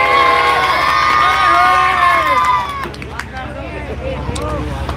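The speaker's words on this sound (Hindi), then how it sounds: "एक बार कम से कम जोरदार ताली तो बजा दो यार" Live show crowd at a ghazal programme cheering and whooping loudly for a couple of seconds, then easing into scattered claps and chatter in the hall.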